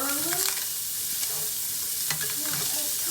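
Meat fries in a hot pan for breakfast, a loud continuous sizzle close up with occasional pops and stirring scrapes, and no voices over it.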